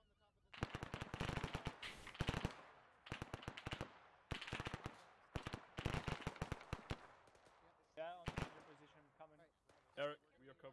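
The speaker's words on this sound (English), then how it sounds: "Job, I'm hearing gunfire from behind." Rapid automatic gunfire from an ArmA 3 co-op military game on the Malden map comes in several loud bursts, mixed with single shots and ending in scattered distant reports, while players speak briefly near the end.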